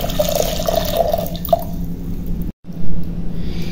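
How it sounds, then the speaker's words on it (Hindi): Water being poured from a vessel into a heated clay pot for matka chai, splashing and dripping with small bubbling pops, close and fairly loud, then a brief gap and more pouring. "तो अब 2 कप हम पानी इसमें ऐड कर देते हैं।"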